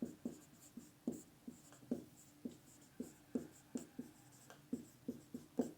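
Chalk or marker strokes on a classroom board while a teacher writes a Hindi heading, a steady run of short, close scratchy taps in an uneven rhythm, with no talking over them.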